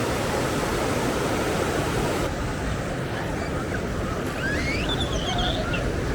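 Milky white water rushes under heavy pressure at Randha waterfall, a dense, unbroken roar filling the whole stretch with only faint shifts in texture.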